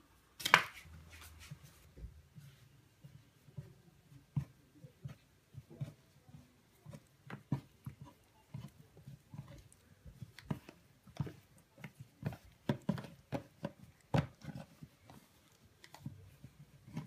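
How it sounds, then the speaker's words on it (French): A pizza cutter slicing, heard as quiet, close, irregular clicks and sharp taps in scattered bursts over near silence, with no voices. "on va découper avec le découpe pizza"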